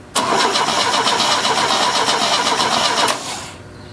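An Opel GT engine cranks and starts after 30 years idle, a loud rhythmic churning of the starter for about three seconds before the motor catches and drops to a rougher, quieter running note.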